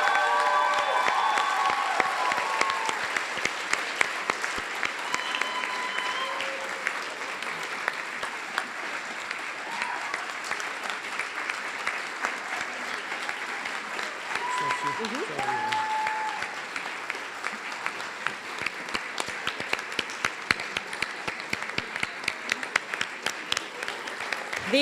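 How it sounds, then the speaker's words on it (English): An audience at a national poetry finals gives sustained applause for student poets and their teachers, a dense, even wash of clapping with some cheering that continues from start to finish. "Let's have another round of applause for these students and their teachers"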